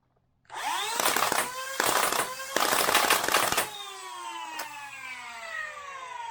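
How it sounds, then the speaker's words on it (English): A Nerf blaster's motor spins up with a rising whine, then bursts of rapid full-auto clatter fire in quick succession before the motor winds down; wind noise underneath. "of course, it's a really fast rate of fire"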